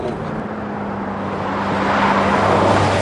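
A heavily loaded van with electronic stability control, driven hard at full throttle on a circuit, with a steady engine drone and road noise that swells gradually as it accelerates toward a corner.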